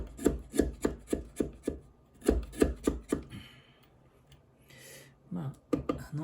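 Sharp rhythmic scraping strokes of a chisel cutting a small wooden chestnut netsuke, close and crisp in bursts, with a quieter rasping pause between groups.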